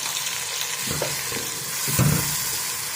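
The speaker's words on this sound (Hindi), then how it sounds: "अब इन तमाम मसाला जात को अच्छी तरह से भून लें।" Green chilies and spices sizzle in a pan for aloo gosht shorba, with a close, steady frying hiss broken by a few soft knocks as they are stirred and no speech.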